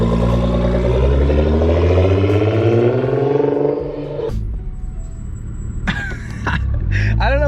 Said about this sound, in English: This is just how the OEM brake pads sound.